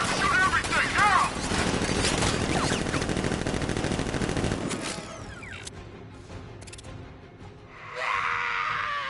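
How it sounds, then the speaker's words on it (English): A Batman video game militia ambush erupts in dense, rapid automatic gunfire and crashing impacts, loud and sustained for several seconds before thinning out into scattered mechanical noises and a final burst of hiss. "Open fire! Shoot everything, now!"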